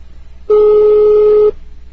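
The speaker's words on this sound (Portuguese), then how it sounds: "Vou ligar de novo." A single steady telephone tone sounds for about a second, loud and close, with a quiet phone line before and after it.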